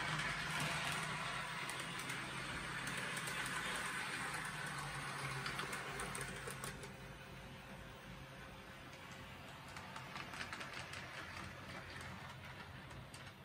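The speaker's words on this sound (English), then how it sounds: "I could run my first trains on the layout" Model trains run on a freshly laid DCC shelf layout: a faint, steady rolling rumble with fine rhythmic clicking of wheels over rail joints, continuous and alone.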